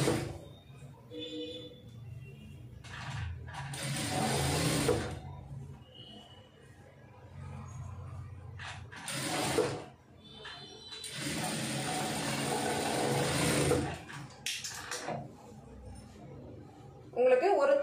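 Sewing machine stitching a cloth neck piece, running in long whirring mechanical bursts broken by pauses, with a person speaking between runs.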